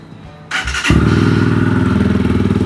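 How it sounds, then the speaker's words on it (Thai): A GPX Razer 220 fitted with an Akrapovic exhaust and no baffle starts with a thump, then settles into a loud, close, steady idle with an even throbbing rhythm. "เสียงก็จะประมาณนี้เลยเสียงเครื่องของมัน"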